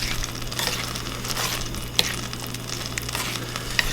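Cactus fries in a pan while being stirred, a steady close sizzle with scraping stirs and a couple of sharp metallic clicks over a low hum; no talking.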